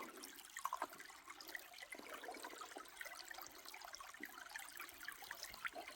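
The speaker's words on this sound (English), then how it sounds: "I'm going to try to put some more water in this." Water container being filled from a small woodland stream at a dogwood run along the Appalachian Trail. A soft, continuous gurgle and trickle of running water runs throughout with small splashes, quiet and close.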